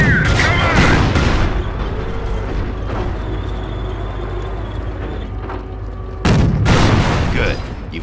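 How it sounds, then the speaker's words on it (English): Tank cannon fire striking a Panzer's rear armor in Company of Heroes, loud rolling booms at the start and again near the end over a constant low engine rumble and battle clatter. "You've scored a hit to its rear armor."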